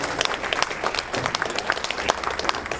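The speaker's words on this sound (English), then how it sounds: "I want a round of applause for these two over here." A comic convention panel audience breaks into brisk, close applause, with crisp individual claps crowding together over a low crowd murmur for a few seconds.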